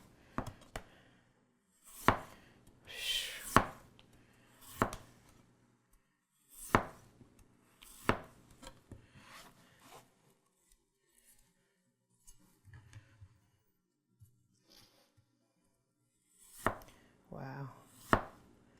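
A custom Sabol Brothers kitchen knife slicing a potato into thin cuts on a board, a series of sharp, distinct chops spaced a second or two apart, near and crisp, with a brief voice between some cuts.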